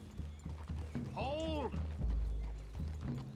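Horses in the western video game Red Dead Redemption 2 give a loud clear whinny and clopping hooves, with someone talking over them.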